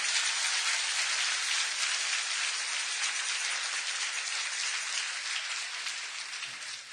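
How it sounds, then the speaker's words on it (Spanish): Large audience applause after a priest's talk on the mantle of the Virgin of Guadalupe, a dense, even hiss of many hands clapping together, sustained throughout and slowly tapering toward the end. "Un aplauso grande."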